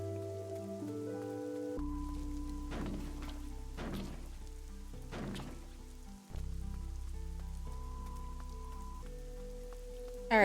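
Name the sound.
rain falling in video game Fall of Porcupine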